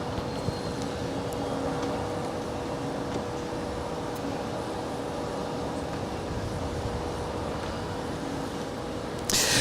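An airliner departing Los Angeles International Airport on a north side departure gives a steady, broad roar that holds evenly from start to finish, a distant engine rumble with no voices over it.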